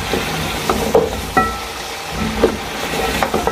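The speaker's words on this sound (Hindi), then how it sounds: "अब हम ये अपने मसाले शामिल करेंगे। और इसमें 5 से 7 मिनट भुनाई करें।" Spices fry with beef trotters in hot oil, giving a steady low sizzle with occasional clinks and scraping stirs from a pot, close by and without talking.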